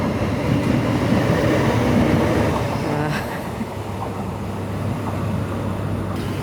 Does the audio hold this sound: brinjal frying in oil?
no